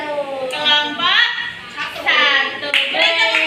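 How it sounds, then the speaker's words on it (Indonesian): Children clapping their hands in a classroom group activity, short bursts of claps mixed with lively children's voices and shouting, close and fairly loud. "Beri tepuk tangan."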